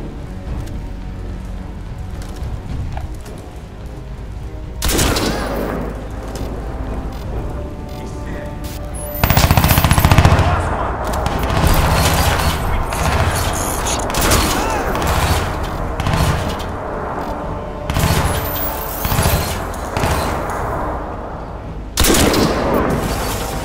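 Sustained gunfire in Crysis 2 Remastered, with rattling automatic bursts and heavy sniper shots over a constant hiss of battle noise, loud and close.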